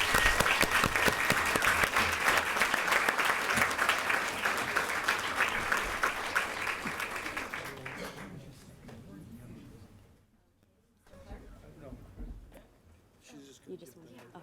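An audience at a school district board meeting applauds, a loud, dense burst of clapping for about eight seconds that fades out, followed by quieter room sounds and talk.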